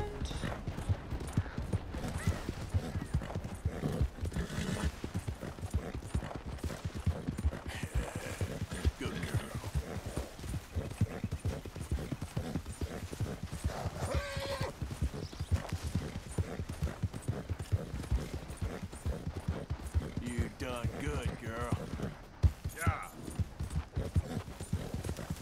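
Rapid, rhythmic hoofbeats of a galloping horse in Red Dead, continuous and close, with game-like mechanical noises in the background and no talking.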